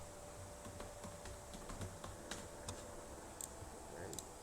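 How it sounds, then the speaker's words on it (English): Keys clatter on a computer keyboard while a download command and file name are entered, a quiet scatter of irregular clicks and taps over a steady low hum. "Let me copy it and type in download and the file name"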